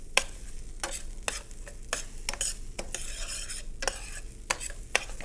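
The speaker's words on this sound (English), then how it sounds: "And you're also going to saute your white rice." White rice and green onions sauté in extra virgin olive oil while a spoon scrapes and stirs them around the pan in quick repeated strokes over a low, steady sizzle.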